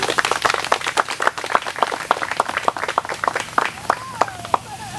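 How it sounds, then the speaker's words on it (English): An outdoor rally crowd claps in thanks for supporting community members, with distinct sharp claps in a fairly sparse, uneven rhythm, close and loud over a faint background hum. "Can we give them a round of applause?"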